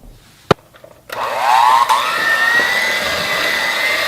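Electric hand mixer blending sugar into sweet potato pie filling, starting after a click and a knock, then a steady loud whirring drone that rises slightly in pitch and holds.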